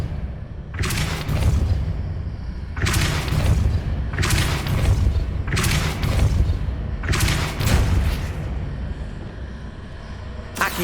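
Repulsor spell blasts in Hogwarts Legacy boom out about six times at irregular intervals. Each is loud and forceful, and a steady low rumble continues between them.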